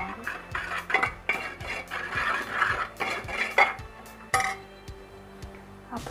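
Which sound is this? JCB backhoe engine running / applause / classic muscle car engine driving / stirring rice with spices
stirring rice with spices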